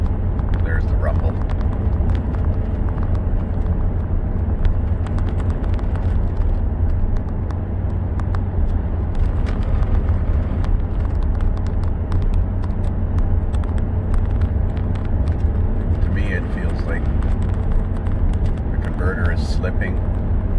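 A 2009 GM 4x4 with a 4L60 transmission and a shuddering torque converter clutch, accelerating gently up a light grade at about 78 km/h, makes a loud, constant low rumble mixed with road and engine noise inside the cab.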